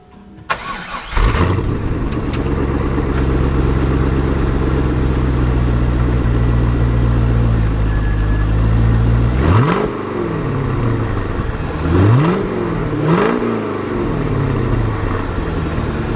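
Chevrolet Corvette C5 with its factory exhaust idling with a steady deep rumble, then blipped through three sharp revs that rise and fall back to idle, close and loud.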